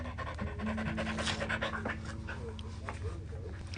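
Dakota, a pet dog, pants rapidly and steadily up close in quick rhythmic breaths, with faint household sounds in the background.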